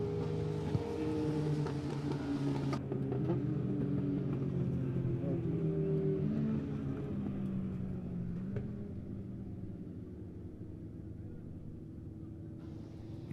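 Heat-race cars rolling onto the track at Monett Motor Speedway, a dirt oval, heard as a continuous low engine rumble with droning tones that rise and fall. The cars sound distant to moderate and run under a steady background roar.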